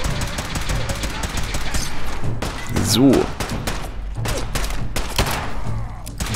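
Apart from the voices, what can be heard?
gunfire in video game Fallout 4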